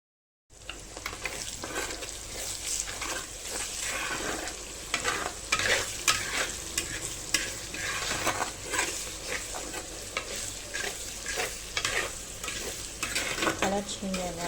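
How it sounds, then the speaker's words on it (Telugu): Ginger garlic paste frying in hot oil for a chicken leg piece curry: a loud, steady sizzle close by, broken by repeated scraping strokes of stirring, with no voices. "దీంట్లో కూడా ఆయిల్లో కూడా ఒక 2 స్పూన్స్ ఆఫ్ అల్లం వెల్లుల్లి పేస్ట్ వేసి బాగా కలుపుకోవాలి"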